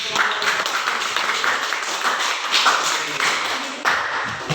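Classroom audience clapping together during a school teaching practice session, a steady broadband patter of many hands lasting several seconds with no talk over it.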